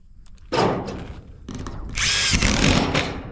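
A power drill driving screws into metal roofing panels near the rib on a fascia board, with several loud whirring bursts and a high metallic whine as a screw bites, close by.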